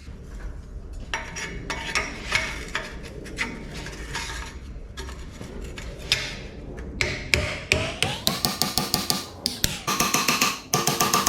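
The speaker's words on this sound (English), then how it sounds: "I'll just have to panel beat it a little bit." Hammer blows beating the folded edge of a Volkswagen Beetle steel body panel during restoration, a run of sharp metallic taps that starts irregular and becomes a quick, steady rhythm toward the end, close and fairly loud.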